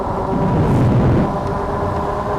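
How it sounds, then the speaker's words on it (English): Steady low roar of a Velocifero Jump motorcycle's noisy tires on pavement with broadband rumble, constant and loud throughout, like riding along a road at speed. "these tires aren't ideal because they're kind of noisy"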